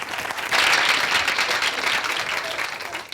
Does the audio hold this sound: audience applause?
yes